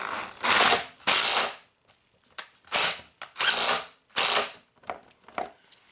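Ratcheting bursts from tightening a part on a worn 300k-mile Saturn's radiator cooling fan, several short loud runs of clicking pawl with brief pauses between, close up with no talk.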